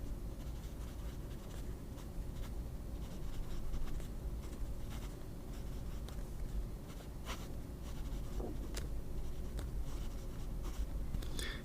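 A PSP Lotus Saratoga fountain pen fitted with a Sheaffer Imperial broad nib scratches steadily across paper, a close, faint continuous scratch with occasional sharper strokes and pauses, no voices.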